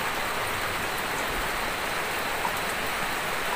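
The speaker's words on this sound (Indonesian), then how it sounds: "saya memperlihatkan luarnya posisi hujan" Rain falls steadily outside at a campsite near an abandoned tourist spot, a constant even wash of noise heard from close by with no voices.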